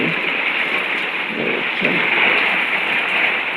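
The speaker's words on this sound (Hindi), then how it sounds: "बारिश देखिए जी किस कदर तेज़ आ रही है" Heavy rain pours hard outside a room during a power outage, a loud, continuous wash of noise with a brief spoken word over it.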